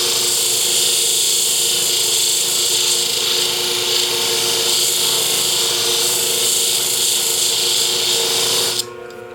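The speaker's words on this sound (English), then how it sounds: "This is where I probably ought to be wearing a mask when I'm sharpening because I'm taking off a lot of metal here." A power grinder sharpening thinning shears, taking off a lot of metal: a loud, steady high-pitched grinding whine that holds throughout and shifts abruptly near the end, close up with no talking.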